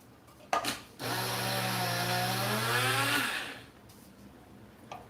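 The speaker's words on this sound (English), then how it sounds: "Honey in the spice grinder is a bad idea." A spice grinder whirs loudly while grinding honey, a steady motor hum of about two and a half seconds with a pitch that drops as it bogs down, followed by a quieter pause.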